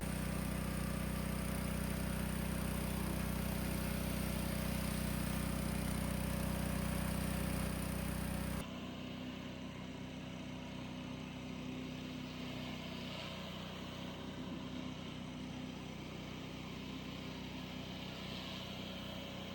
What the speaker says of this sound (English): Turns out the engine still ran fine.